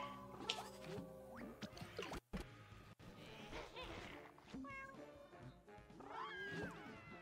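A cat meows in a video game, several calls rising over a dense, continuous bed of game music and effects.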